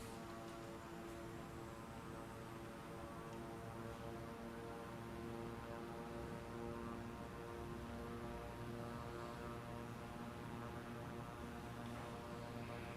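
Airplane engine in Microsoft Flight Simulator 2020 during takeoff: a steady, droning propeller hum with layered tones, constant and moderately loud throughout, no one talking.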